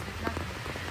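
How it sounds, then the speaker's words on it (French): Heavy rain pelting down outdoors, a dense continuous hiss of drops hitting surfaces, steady and close for a brief moment. "Il pleut des cordes."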